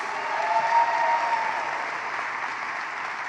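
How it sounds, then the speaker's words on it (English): A crowd applauds the Chief Administrative Officer at Richmond's 2023 State of the City event, a smooth, sustained wash of many hands clapping that swells slightly early on and then holds steady. "let's give a round of applause to our Chief Administrative Officer, Lincoln Saunders"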